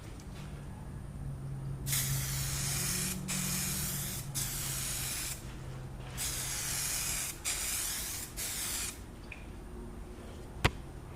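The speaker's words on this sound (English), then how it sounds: "before applying the clear coat, I'm going to add some adhesion promoter" Adhesion promoter is sprayed from an aerosol can onto a car headlight in several close, loud bursts of hissing spray separated by short pauses, ending with a single sharp click.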